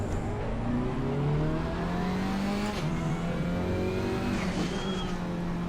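Muted cockpit-view engine of a KTM GT4 race car in the Assetto Corsa Competizione racing game, a steady droning roar with rising and falling revs through gear changes, heard from inside the car without any voices.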